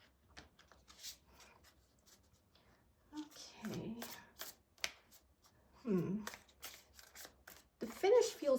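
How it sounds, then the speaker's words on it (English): Lenormand cards being side-riffle shuffled at close range, giving a few short, crisp bursts of riffling spread across a quiet stretch, with soft handling noises and a voice speaking between them. "I'm always afraid of accidentally bending the cards as I side riffle them"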